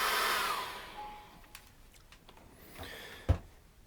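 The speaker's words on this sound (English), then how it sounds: "Let me just dry that off with a hairdryer now." A hairdryer blowing over a wet acrylic seascape painting, a steady broadband whoosh that runs strongly at first and then fades out, followed by a few soft taps and knocks.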